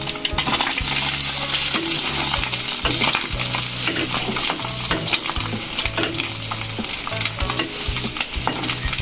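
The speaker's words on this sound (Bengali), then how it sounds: "এবার আমি মরিচ পেঁয়াজগুলো দিয়ে দেবো" Chilies and onions hit a hot pan beside frying egg for homemade noodles, giving a loud, continuous sizzle broken by repeated scraping stirs and light clanks of a utensil against the pan.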